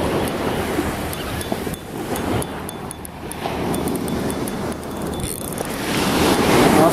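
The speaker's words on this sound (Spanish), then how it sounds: "Ahí la ola se viene." Ocean surf at Piedras Negras in Mazatlan, heard as a broad wash of waves rolling in and breaking, heavy with wind buffeting the microphone and swelling louder near the end.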